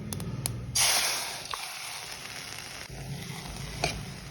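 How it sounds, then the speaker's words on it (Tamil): Boiled banana stem tipped into a mustard seed and urad dal tempering in hot oil, a sudden burst of sizzling that fades into a quieter steady crackle, with a faint click of a utensil. "கடுகு வடித்த பின்ன வேக வச்ச வாழைத்தண்டை போட்டுங்கோ"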